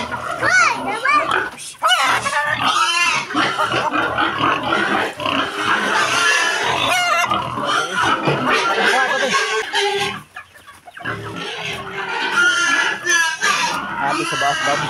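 Pigs grunt and snort up close amid clucking chickens, with children playing and people talking over them throughout in a busy farmyard.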